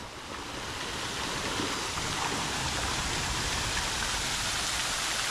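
Suiat Falls, a waterfall on the West Coast Trail, swollen after rain, produces a steady, broadband rushing roar. The sound is constant and enveloping, with no pauses or voices.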